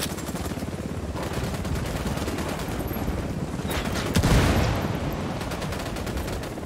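Sustained gunfire in Ghost Recon Wildlands: rapid, dense bursts of automatic rifle shots rattle on continuously, with a louder cluster of reports swelling near the middle before the steady firing resumes.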